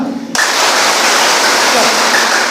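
Class 10 students in a Kannur school classroom break into dense, loud group hand clapping after a brief quiet moment, a continuous rain-like patter of many hands that holds steady to the end.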